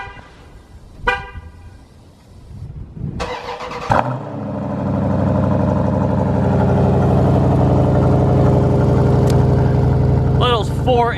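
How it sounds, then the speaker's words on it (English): Cold start of a Dodge Durango SRT with a 6.4 liter Hemi V8 and four-inch chrome exhaust tips: a couple of clicks and a short beep, the starter cranking, then the engine catching with a loud roar and settling into a steady, deep idle. "cold start."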